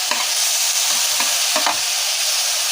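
Meat sautés in a large tray, a loud, steady sizzle close up, with a few soft stirring scrapes and clinks over the hissing fry.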